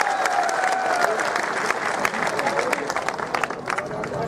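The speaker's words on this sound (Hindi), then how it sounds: "जरा तालियां बजाकर इनका अभिनंदन करें।" Applause from a large crowd at a Hindi political rally in Burhanpur, dense and steady clapping throughout with a thin whistle at the start and crowd murmur underneath.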